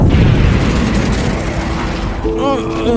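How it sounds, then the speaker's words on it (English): An atomic bomb detonates in an animated superhero film, a loud, heavy rumbling blast with a dense low roar that fades under rising tonal effects near the end. "Diana killed Aquaman and activated the atomic bomb before he died."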